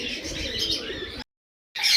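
Pet pigeons at a Kolkata loft coo and chirp together in a close, busy chorus. A brief silent gap breaks it before the calls resume.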